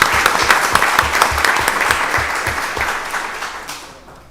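Applause fills a county board of commissioners meeting room, a steady round of many hands clapping at close range that gradually softens and dies away over about four seconds.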